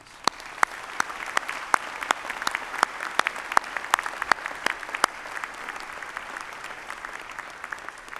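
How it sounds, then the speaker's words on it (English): A commencement ceremony audience gives a steady round of applause for faculty and staff, a dense wash of many hands with sharp individual claps standing out throughout. "would you please help me say thank you through a round of applause"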